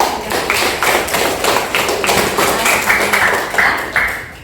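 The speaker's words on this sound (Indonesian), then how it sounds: "Tepuk tangan buat semuanya." A classroom of students claps in a rhythmic pattern of about a dozen sharp, loud, evenly spaced claps and taps, close by.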